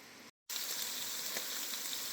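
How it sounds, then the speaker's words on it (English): Vodka sauce bubbles and sizzles steadily in a pot as the alcohol cooks off, a dense, close frying hiss that cuts out for a brief moment and then carries on unbroken. "You're going to want to cook this down for about 3 to 5 minutes to allow the alcohol to burn off."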